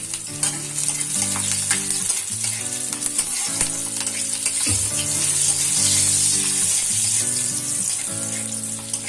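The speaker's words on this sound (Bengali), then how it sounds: "রসুন কুচিটা একটু লাল লাল করে ভেজে নেব" Chopped garlic frying in oil over a low flame while chilli paneer is being made gives a steady, close hiss and crackle lasting the whole stretch, with faint tonal background sounds and no talking.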